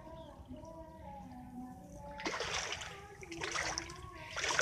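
Splashing through floodwater in a dragon fruit orchard after a day of rain, with soft bursts of splashing and sloshing starting midway over a low background hum.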